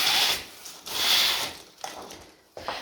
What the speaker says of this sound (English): I'm just going to close the blinds